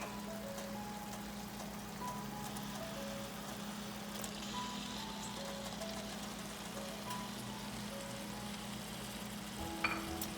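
Tofu added to a spinach curry in a pan, a faint, steady sizzle and bubbling with a few light clinks near the end, no talk.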